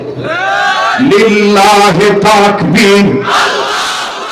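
A large crowd answers in unison with a loud takbir chant of Allahu Akbar, a sustained, massed roar of voices lasting several seconds.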